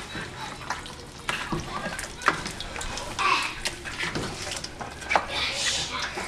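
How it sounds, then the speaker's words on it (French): Oxtail broth being stirred in a pot on the stove, with soft scraping, sloshing and simmering sizzle going on steadily throughout at moderate level, a few sharper clinks of the spoon against the pot. "On mélange."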